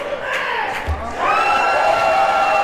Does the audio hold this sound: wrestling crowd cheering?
yes